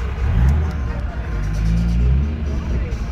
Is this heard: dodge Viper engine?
yes